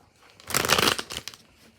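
Tarot cards being shuffled at a reading, a brief, soft riffle of papery flicks swelling and fading over under two seconds, faint and close with nothing else around.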